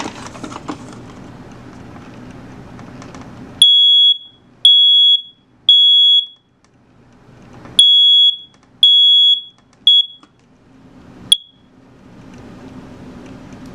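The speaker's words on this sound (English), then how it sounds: "now let me first test out the smoke detector" A loud, shrill smoke detector alarm sounds in a series of repeated piercing beeps, starting and stopping in bursts during a test, ending with one short low-battery chirp amid quiet room noise.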